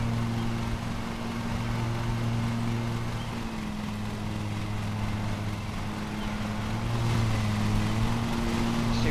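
Lawn mower motor droning steadily in a video game, a constant humming engine tone that swells slightly near the end, with no talk over it.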